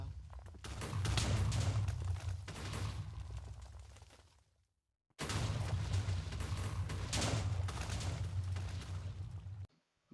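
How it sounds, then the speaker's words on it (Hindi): TNT blasts in Minecraft, two long rumbling explosions separated by a short silence, each a loud, close roar that slowly fades. "अब बारी आती है धमाका करने का।"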